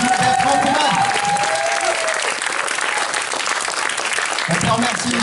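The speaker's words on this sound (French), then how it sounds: "vous pouvez applaudir" Sustained applause from a crowd, dense and steady throughout, with a voice briefly audible over the clapping near the start and again at the end.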